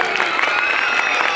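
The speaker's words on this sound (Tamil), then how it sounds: "ஒரு பெரிய கைத்தட்டல் இருக்கு." Loud audience applause at a Greater Chennai Corporation stage event, dense crowd clapping filling the moment with a bright, steady wash of sound.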